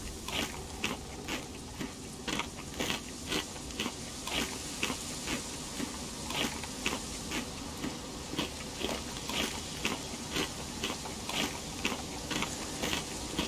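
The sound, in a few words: character eating dragon meat in DayZ video game, crunchy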